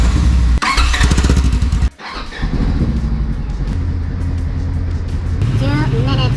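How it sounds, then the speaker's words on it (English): A Polaris RZR 1000 side-by-side engine starting and warming up, a loud close rumble with revving and a brief dropout, then steady idling as someone talks. "start up the engine and let it warm up for about 2 minutes"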